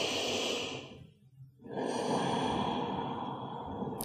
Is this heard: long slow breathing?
yes